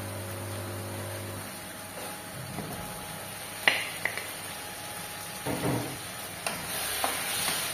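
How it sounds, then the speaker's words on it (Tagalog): Meat sautés in a pan for a home-cooked Filipino dish, giving a soft, steady sizzle with scattered clicks and scrapes of stirring, fairly quiet and close, with no talk. "Igisa mo muna siya na maigi."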